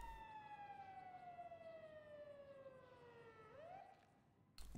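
A police siren in Grand Theft Auto Online, a single wailing sweep falling in pitch then rising again, fairly faint over low background noise, with no talking.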